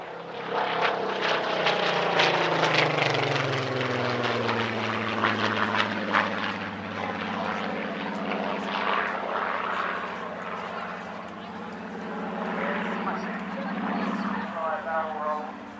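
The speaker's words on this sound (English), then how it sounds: "Going to take the most cursory of glances now at the Rolls-Royce Heritage Flight, who provided consecutive solo displays by their Spitfire PR-19 and P-51D Mustang." Rolls-Royce Heritage Flight's Spitfire PR-19 and P-51D Mustang displaying at an airshow, piston engine drone with a falling pitch as a plane sweeps past, a strong throaty roar that fades and returns, while a voice talks over it.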